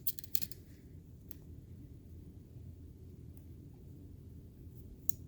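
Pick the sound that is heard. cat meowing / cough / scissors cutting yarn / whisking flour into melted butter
scissors cutting yarn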